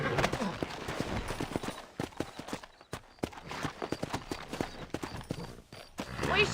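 Horse hooves clip-clopping in the video game Red Dead Redemption, an irregular run of hoof strikes at close range, partly under game dialogue.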